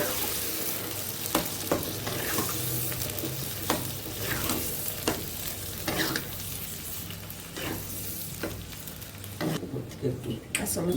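Boiled dal for Bengali ghugni stirred and frying in a pan, with a steady sizzle throughout and repeated scraping stir strokes close by.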